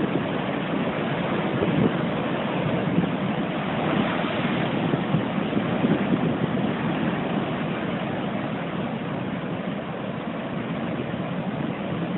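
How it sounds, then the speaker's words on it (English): Continuous rushing surf and crashing waves, broad and steady, with wind buffeting the microphone throughout. "Give y'all a second to hear and look at these waves."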